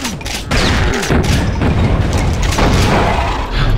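Shotgun fire in the Doom video game with a brutal mod, dense, loud, booming blasts and crashing impacts filling the whole stretch in a rapid, chaotic barrage with no clear pauses.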